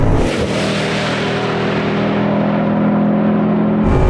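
Bugatti Bolide hypercar at high speed on the Spa circuit, its engine holding a loud, steady droning roar with a rising whine heard from inside the car, cutting off abruptly at the end.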